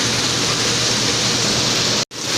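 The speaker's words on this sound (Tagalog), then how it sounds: "Lakas kasi ng ulan." Heavy rain pours steadily outside a window, a dense, loud and continuous hiss that briefly cuts out near the end before resuming.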